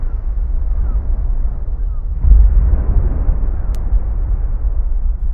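Sea surf simulated as it would sound on Mars, a dull, muffled low rumble stripped of all brightness, steady and loud with a slight swell midway.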